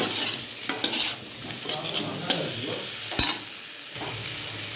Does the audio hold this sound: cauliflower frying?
yes